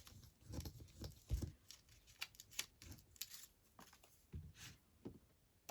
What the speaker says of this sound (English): These scissors.